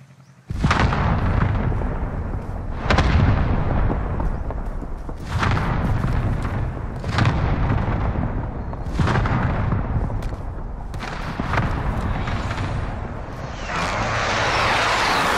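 Gunfire and heavy blasts in the Warzone video game, with loud booming shots recurring roughly every two seconds, each trailing off into a rumbling echo, and no talking.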